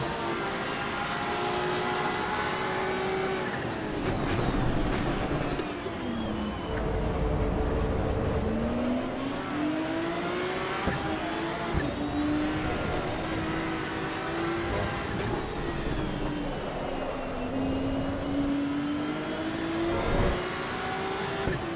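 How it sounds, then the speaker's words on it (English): Porsche race cars in the racing game Assetto Corsa EVO roar past in an overtake, engine notes rising and falling through gear changes with loud whooshing passes, continuous throughout. "is it a double Porsche overtake?"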